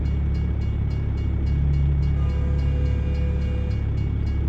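Approaching train in American Truck Simulator in southern Arkansas, heard as a constant heavy low rumble with faint rhythmic clacking that swells slightly midway, steady and fairly loud with no talking.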